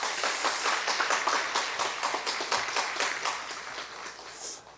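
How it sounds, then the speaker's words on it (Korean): A crowd claps steadily in a dense, continuous round of applause at a university chapel service, sustained throughout and tapering slightly at the end. "여러분 먼저 박수 한번 하겠습니다."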